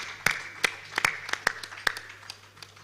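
Sparse applause from an audience at the 15th Abuja International Housing Show, a handful of distinct claps spaced irregularly and fading after a couple of seconds as a woman walks to her seat.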